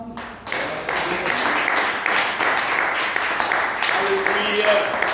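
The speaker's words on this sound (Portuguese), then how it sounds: "louvar ao Senhor com as palmas." A church congregation clapping hands in praise during a service, a steady rhythmic patter of many hands under continuous voices singing or calling out, loud and close throughout.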